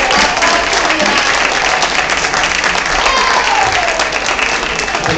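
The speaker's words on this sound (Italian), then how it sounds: "Lorenzo, un super applauso perché" Loud, sustained applause from a concert audience at a Christmas peace concert, a thick, even roar of many hands clapping with faint crowd voices mixed in.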